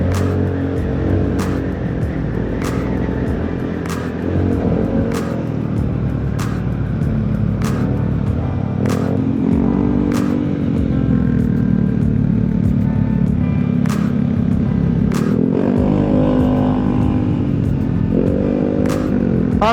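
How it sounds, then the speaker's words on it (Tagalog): Cars and motorcycles pass by near Taal Lake, a steady, loud rumble of engines with several vehicles whooshing past in turn and sharp clicks scattered throughout. "May mga sasakyan ha."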